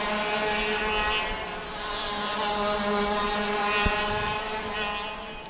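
Racing karts lapping a track during a TAG Senior race, a steady loud buzzing drone of small engines holding on throughout without breaks.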